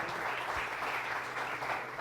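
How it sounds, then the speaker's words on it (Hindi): An audience of senior citizens at a comedy event claps for a guest being called up, a continuous soft wash of applause at low level with no talk over it. "शराफत अली शाह साहब के लिए बहुत सारी तालियां जोरदार"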